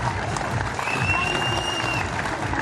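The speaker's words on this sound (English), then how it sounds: "Give a big round of applause one more time" An audience at a STIHL Timbersports Australian Trophy medal ceremony gives steady, dense applause throughout, with crowd noise and some cheering underneath and a few voices mixed in.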